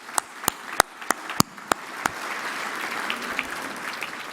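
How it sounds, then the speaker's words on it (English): Audience clapping at a National Soccer Hall of Fame induction ceremony, opening with a few sharp, separate claps that swell into sustained, dense applause from a crowd. "How about a round of applause for what's been accomplished here at the National Soccer Hall of Fame?"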